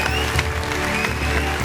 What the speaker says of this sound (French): Du bruit encore, s'il vous plaît, pour Vanister